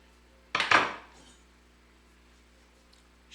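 A sharpening steel set down and handled on a cutting board gives one brief clattering knock with a short rattle, close and moderately loud, then quiet.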